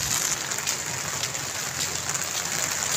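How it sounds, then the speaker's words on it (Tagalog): Heavy rain pouring down in a steady dense hiss with no breaks, loud and close, no voices. "Pag ganito kalakas ang ulan, no?"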